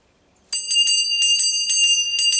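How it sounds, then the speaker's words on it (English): A bright bell rings in a quick series of about nine clear strikes, high and metallic with lingering tones, starting after a brief silence. "So the sound of her bell is to get all the bad guys running away."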